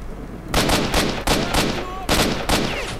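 Gunfire from the video game S.T.A.L.K.E.R.: Shadow of Chernobyl, a string of about six loud, punchy shots in uneven succession over a steady game background.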